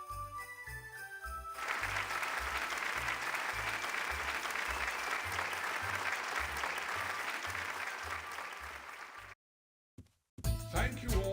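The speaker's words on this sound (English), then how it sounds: "Gentlemen, a big round of applause for Mayor Goldstein." In a flood simulator video game, a short musical jingle gives way to loud, steady applause from a crowd lasting several seconds, then it cuts to silence before a brief tune resumes.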